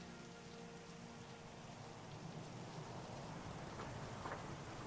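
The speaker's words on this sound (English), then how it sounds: "I don't think we've flown in the rain yet." Steady rain in Microsoft Flight Simulator 2024, a continuous broadband hiss of falling drops with faint low rumbles beneath, evenly loud throughout.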